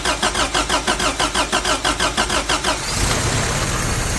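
The engine of a 1984 Toyota pickup cranks over with a rapid, steady rhythmic starter whir for nearly three seconds, then catches and settles into a loud, rough idle, heard up close with no talking.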